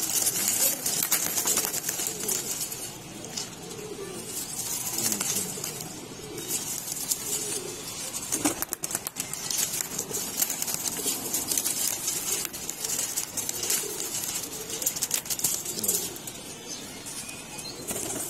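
Pigeons coo softly in low murmurs, with occasional wing flaps amid a hissy outdoor background.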